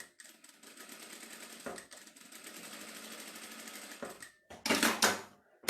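Sewing machine stitching over fabric to reinforce a seam on a clutch bag, a rapid close mechanical chatter in a few runs separated by short pauses, ending with a louder burst.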